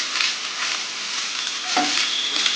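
Grated raw coconut sizzles in hot ghee in a pan as it is stirred, a steady close-up hiss of frying with a few soft scraping stirs.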